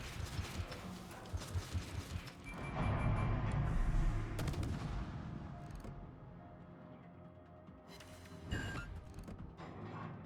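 Naval gunfire in the World of Warships game, with a battleship salvo firing: heavy booming blasts and rumbling, then a softer distant thud near the end, mixed with creaking mechanical game sounds.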